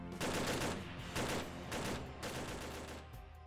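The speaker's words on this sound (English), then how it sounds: "We're going to be looking at the General Purpose Machine Gun, or the British designation, which is called the L7A2." An L7A2 general purpose machine gun, a belt-fed 7.62x51mm British weapon, fires in the video game Arma 3 in several sustained bursts separated by brief pauses, loud and close with no talk.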